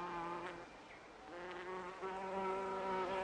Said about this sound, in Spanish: Las moscas.